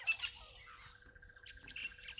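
Birds at a waterhole give faint, sharp chirping calls in short bursts while harassing a potential predator, with a thin insect-like buzz running underneath.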